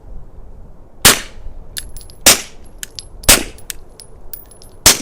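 Four suppressed 9mm pistol shots from a SIG P365 fitted with an OSS RAD 45 suppressor crack out about a second apart, each a sharp, loud report followed by metallic clinks of brass landing.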